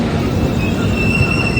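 A train running on rails into Surat at dusk gives a loud, continuous rumble with a thin metallic squeal of the wheels held throughout.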